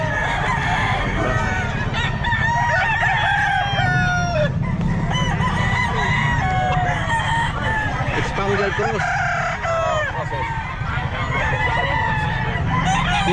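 Spangle Cross Pumpkin Sweater gamefowl rooster crowing loudly and repeatedly at a busy Bocaue pet market, with clucks from other fowl and market chatter in the background.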